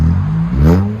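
A 2022 Toyota Corolla XSE with a six-speed manual and a muffler delete revs hard and close. The raspy engine note climbs and then falls away in about a second.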